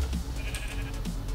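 A Minecraft sheep gives a short bleat, then another, both close and clear over a steady game background hum.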